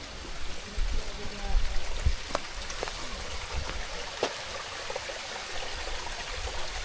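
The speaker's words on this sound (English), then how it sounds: "these are natural springs that come out of the hills" Natural mountain spring water flowing through a hillside gully in the mountains of St. Thomas: a steady outdoor trickle and babble, moderately close, with scattered knocks and rustles.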